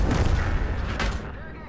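A heavy tank cannon blast from the E 50 M in an online tank game, one deep booming shot with a rumbling tail, under a muffled voice.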